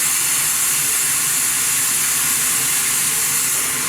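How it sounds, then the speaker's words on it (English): A 2-8-2 steam locomotive on the Grand Canyon Railway, freshly refitted, giving off a loud, continuous hiss of escaping steam. The sound is close and steady, with no break in it. "So technically this would be called a 282 locomotive."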